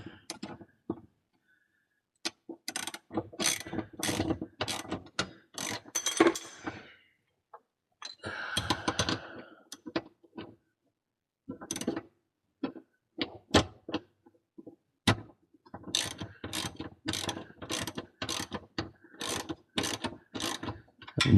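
Hand ratchet clicking in repeated quick bursts while tightening torque arm relocation bracket bolts under a 2002 Camaro SS, close and crisp, with short pauses between strokes and occasional clunks of tool handling.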